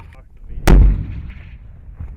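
An AT-4 rocket launcher fires during a live fire exercise outdoors, a single loud, sharp blast that booms and then fades into a rumbling tail, with voices faint in the background.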